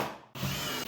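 Power drill driving coarse thread screws into plywood while assembling a Lazy Susan corner base kitchen cabinet carcass: a brief loud whirring drive with a short pause, then steady close grinding as the screw seats.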